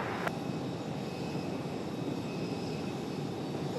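An aircraft taking off at Raleigh-Durham International Airport, heard as a steady, fairly faint and distant broadband engine roar that holds evenly throughout.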